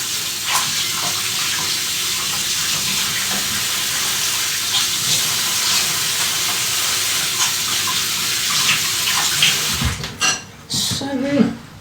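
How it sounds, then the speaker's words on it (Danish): Steady running water from a kitchen tap as greasy hands are rinsed, a constant close hiss that cuts off near the end, followed by a few clinks and knocks. "så kan jeg lige hurtigt vaske det her fedtede stads i mine hænder"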